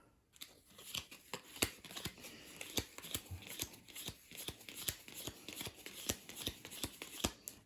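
Cards for the Village Green board game being pulled from a deck and sorted. Crisp, close snaps and flicks of card come in a steady, quick rhythm, quiet but distinct, with no talking.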